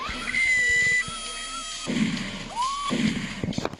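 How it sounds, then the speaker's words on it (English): A few short screams ring out amid a tense, noisy background during a bank robbery in Grand Theft Auto III, one rising wail standing out near the end. "When you hear screaming and shots from the bank, somebody's messed it up."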